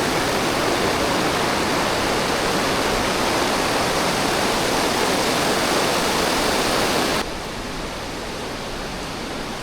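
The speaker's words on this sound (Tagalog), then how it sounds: "Nagmumula sa kabundukan ang mga tubig na umaagos dito." Clear mountain water rushes steadily down Ubot Falls, a loud, dense and continuous roar that drops noticeably softer near the end, with no voices over it.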